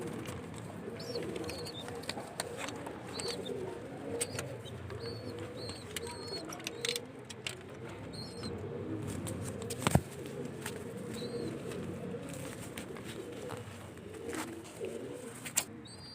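Sialkoti batera quail call softly in a bird room, with repeated faint chirps and coos scattered over a low steady background hum and occasional clicks, fairly distant and quiet throughout.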